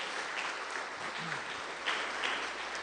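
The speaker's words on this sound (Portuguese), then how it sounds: "E dê uma forte salva de palmas para o Senhor Jesus." A church congregation at a family meeting service claps for Jesus, a soft, dense wash of applause heard at a distance, with faint voices and a brief low sound underneath.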